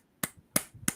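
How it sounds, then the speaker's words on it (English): Three sharp, separate hand claps, close and fairly quiet, spaced about a third of a second apart, with no talking. "Come, I clap for you."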